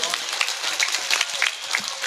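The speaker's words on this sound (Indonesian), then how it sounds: "Tepuk tangan sepisan malih lho niki." Audience applause at an Indonesian religious talk, light scattered clapping from a crowd, fairly faint and brief, with a voice over it.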